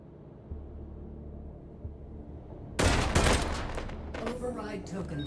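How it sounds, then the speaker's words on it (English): Suppressing gunfire in the VR shooter Hot Dogs, Horseshoes & Hand Grenades, a sudden loud burst of rapid shots after a quiet stretch, followed by clattering and ringing aftermath. "Suppressing fire, you know?"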